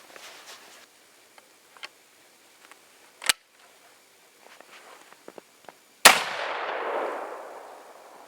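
An old C.I.L. 3-B shotgun with a chrome-lined bore fires a black powder shell, a single sharp, loud blast followed by a long rolling decay, after quiet handling clicks and a smaller snap.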